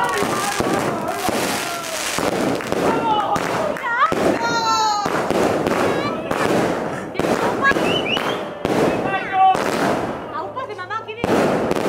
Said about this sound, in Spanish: A ver los fuegos, Irati?